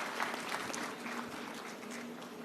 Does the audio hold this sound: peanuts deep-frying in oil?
no